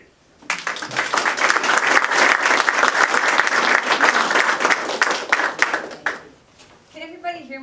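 Lecture audience at a public affairs leadership event applauding to welcome the speaker, a loud sustained burst of clapping that fades out after about six seconds, followed by a voice starting to speak.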